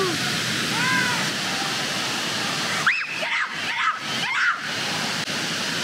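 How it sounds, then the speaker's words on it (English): Broad steady rush of water pouring over a weir dominates the whole stretch, loud and close, with excited voices and shouts cutting in briefly over the roar. "If you've got a waterfall, you can't compete with a waterfall."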